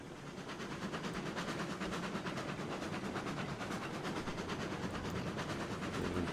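A slow freight train rolls along in the video game RailRoads Online, giving a steady rumbling run with a faint rhythmic clatter of wheels that holds at an even level throughout.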